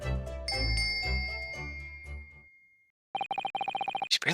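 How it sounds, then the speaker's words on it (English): A bell rung by tugging a bell cord in the video game The Great Ace Attorney Chronicles, clear ringing chimes that decay away, then a quick run of repeated electronic tones. "Yes, it's a bell cord."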